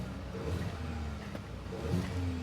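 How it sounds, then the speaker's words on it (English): A 2015 Ford Focus 1.5 EcoBoost engine running with an exhaust leak: a steady mid-pitched idle with light puffing, two rising revs about a second apart, and a faint tick near the middle. "you hear a leak in the exhaust already?"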